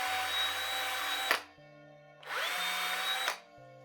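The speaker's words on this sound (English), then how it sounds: "Let's drill a hole in those tree trunks so I can pin them with a toothpick and PVA onto the styrofoam base." Two bursts of a power drill boring holes into small model tree trunks, each a steady high whine lasting about a second, separated by a short pause, loud and close.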